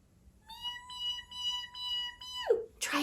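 A human voice imitates a newborn kitten's meow: a single thin, high, light sustained tone held for about two seconds, then a sharp downward slide, faint and close.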